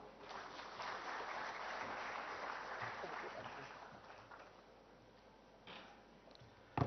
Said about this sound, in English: a huge round of applause for Nalin Mehta